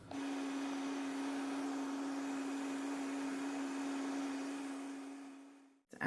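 A blender whirs steadily at full speed pureeing chilies with salt and a cup of water, a constant close mechanical hum that runs unbroken for several seconds before cutting off abruptly.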